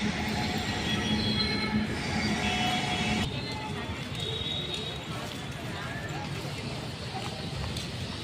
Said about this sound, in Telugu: ఇది ఫ్రెండ్స్ మన రైల్వే స్టేషన్